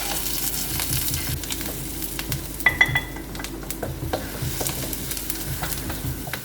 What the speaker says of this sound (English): Stir them well, and finally add all the chili powder, asafoetida, and turmeric powder.